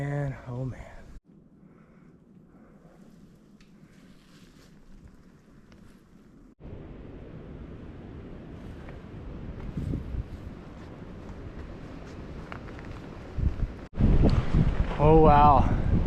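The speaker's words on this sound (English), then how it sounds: "Now you're gonna get some wind." Wind gusts across a mountain campsite on the Appalachian Trail near Woody Gap, a steady broadband rush buffeting the microphone that grows louder and harsher toward the end, with someone talking over it.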